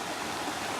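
Runoff from a waterfall rushing among massive boulders in the Squamish area, a steady broadband roar of flowing water with no breaks, moderately loud and close, with no voices.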